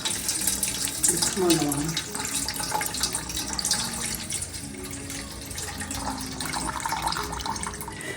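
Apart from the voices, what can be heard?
rinsing bulgur under running tap water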